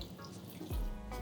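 A little water is poured into simmering tandoori potato biryani gravy with chopped mint and coriander: a brief, faint splash and trickle up close, with no talking.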